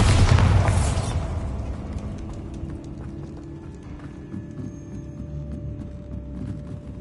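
A Bombarda spell explosion in Hogwarts Legacy bursts loudly at the start, then fades into a rumbling, crackling tail with scattered debris taps over a steady game ambience.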